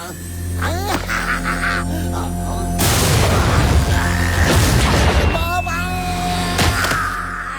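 A loud cartoon laser blast from the Gattu Battu animated series bursts into a rumbling explosion around the middle, surrounded by whooshing zaps and synth effects over a busy soundtrack, with character voices heard in spots.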